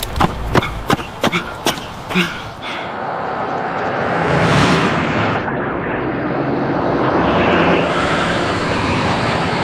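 An AI-generated sound of a jet or airplane engine: a loud, steady roar rumbles continuously, following a rapid series of sharp booming impacts at the start.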